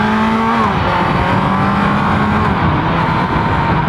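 A 2018 Kawasaki Z900 motorcycle pulls hard under acceleration, engine pitch climbing through gears with a brief shift dip, loud and close over steady wind rush, no speech.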